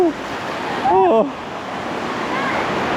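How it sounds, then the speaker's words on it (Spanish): Atlantic Ocean surf washes steadily onto the beach at Praia Grande, São Paulo, Brazil, a broad continuous rush with gusty wind noise. A voice breaks in briefly. "El océano Atlántico"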